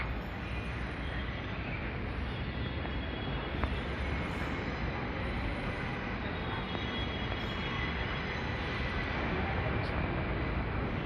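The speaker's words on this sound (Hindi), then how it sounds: "मेट्रो आ रही है।" A metro train rumbles steadily into a station, a continuous low roar of wheels on rails with faint metallic squeals, loud and close throughout.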